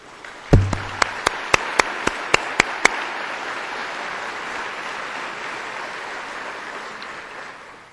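A dinner-hall audience at the Kosciusko County Chamber awards event gives steady, sustained applause for board members. It begins with a burst of sharp claps and holds as a broad, even wash of clapping to the end.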